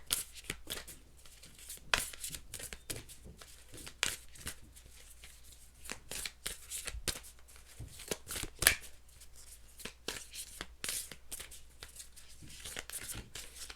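A deck of Soul Truth Affirmation cards is shuffled close by, with soft, irregular riffles and snaps repeating over a quiet room.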